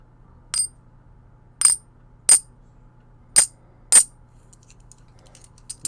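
Silver half dollar coins dropped onto a pile, giving five bright, ringing metallic clinks spaced about a second apart, each decaying quickly, close and clear against a quiet background with faint small clicks near the end.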